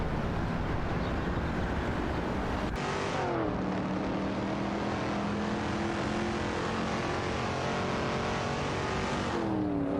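Video game race cars, including a 1973 Holden Monaro GTS and a Chevrolet El Camino, roar past with loud engine whines, a sharp pass-by cut, then rising and shifting revs as another car sweeps through near the end.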